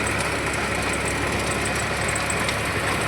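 A tractor engine runs steadily on a farm field, a continuous loud mechanical drone with a rough low rumble and no talk over it.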